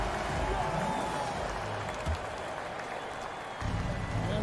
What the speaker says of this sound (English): Please give a big round of applause for your Houston.